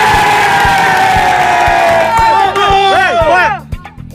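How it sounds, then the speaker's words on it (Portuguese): A talk-show studio audience in Bolivia shouts, cheers and claps loudly, with rhythmic clap beats and excited voices, some sounding like children, rising in whoops before fading near the end. "Só pode gritar e bater palma para o que você achou que foi o melhor."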